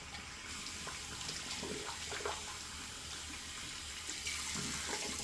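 Tap water runs steadily over a shaving soap plate as it is rinsed, a close continuous splashing stream with small shifts as the plate is moved under it.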